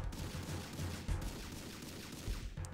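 Rapid gunfire from a P2K pistol in a first-person shooter video game, a dense fusillade of quick shots that carries on steadily for the whole stretch with no voices.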